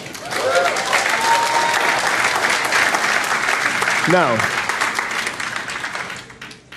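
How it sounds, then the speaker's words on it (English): Sustained, dense applause from a large audience for a speaker fills the whole stretch at steady strength, then thins slightly near the end as a voice cuts in briefly. "you can applaud if you want"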